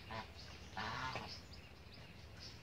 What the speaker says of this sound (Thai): ดูเป็ดเทศดูเป็ดเทศตัวนี้ดิเนี่ย